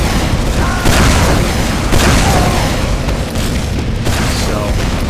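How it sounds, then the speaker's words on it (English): Grenade explosions boom repeatedly in Team Fortress 2 gameplay, dense, loud bursts overlapping with continuous game noise throughout, several sharper blasts standing out near the start and middle. "So you can see there's grenades flying all over the place."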